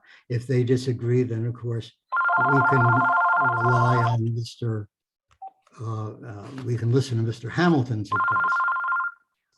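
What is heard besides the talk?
phone ringing during a meeting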